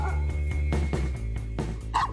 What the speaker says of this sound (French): Alors à vous de bien écouter pour comprendre désormais tous les aboiements de votre compagnon.